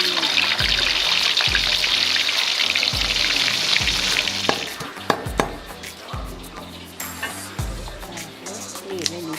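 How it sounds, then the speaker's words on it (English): Fish frying in a pan at a Thai cooking spot, a steady loud sizzle that later thins out, with clattering and bumps over a low rhythmic background beat. "next she's gonna fry the fish"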